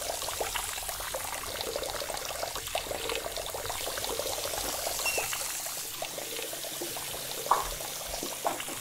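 Water running from several taps into sinks indoors, a steady continuous splashing pour with faint trickles, moderately quiet and uninterrupted, with a brief clink near the end.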